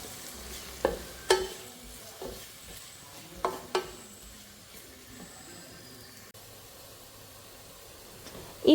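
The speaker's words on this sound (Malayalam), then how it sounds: "സവാളയും കൂടെ അതിലേക്ക് ഇട്ടിട്ട് നല്ല പോലെ ഒന്ന് സവാള വഴന്ന് വരുന്ന വരെ നമ്മളൊന്ന് മിക്സ് ചെയ്ത് കൊടുക്കണം" Chopped onions fry in a pan as they are stirred, a soft steady sizzle with several sharp scrapes and clinks of the spoon against the pan, ending in a louder clatter.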